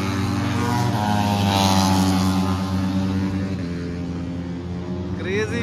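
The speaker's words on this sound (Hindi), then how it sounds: "गाइस तुम लोग को साउंड आ रहा है बाइक" MotoGP racing motorcycles at the Buddh circuit during Moto GP Bharat 2023, a continuous loud engine roar with shifting, rising and falling pitch as machines pass, heard steadily from a spectator area.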